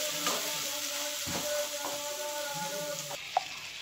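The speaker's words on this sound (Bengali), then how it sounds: "এবার আমি এটা কষাতে থাকবো।" Chicken stomach sautéing in a pan over medium heat, a steady close sizzle with light stirring scrapes and one brief clink near the end.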